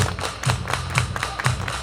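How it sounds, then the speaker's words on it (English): A group clapping hands in unison at a tribute event, sharp claps repeating in a steady beat of about four in under two seconds. "Everybody clap your hands."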